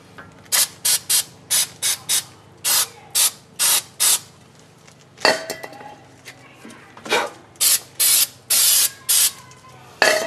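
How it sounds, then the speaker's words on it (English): Short bursts of aerosol brake cleaner hiss onto a brake caliper bracket during a front brake job on a 2003 Toyota Camry, a rapid run of close, loud sprays with a brief metallic clink in the middle. "spray it down with some brake clean"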